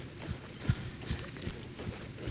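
A horse trots in circles, its hoofbeats forming a soft, rhythmic clip-clop of several steps at close range, with no talking.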